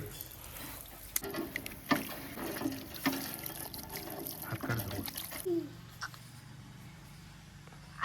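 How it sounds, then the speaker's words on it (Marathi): Water splashes and trickles steadily as hands and feet are washed outside an old stone village temple near a pond, running for several seconds before stopping, then quieter ambience follows. "आता मी पाय धुवून घेतो, हात पाय धुवून घेतो"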